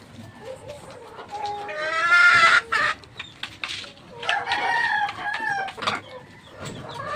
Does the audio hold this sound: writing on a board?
no